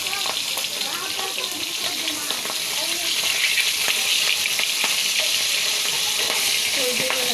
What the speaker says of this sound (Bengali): দেখেন কিভাবে ফুটে, দেখছেন?